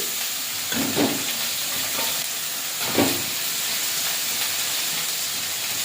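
Prawns added to hot spice paste of ginger, cumin and coriander in oil, giving a steady close hiss and sizzle with a couple of louder spits and stirring knocks.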